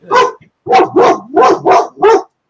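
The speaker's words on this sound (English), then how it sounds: "barks a lot, huh?" A puppy barks close by, one sharp bark followed by a brief pause and then a rapid run of five loud, evenly spaced barks.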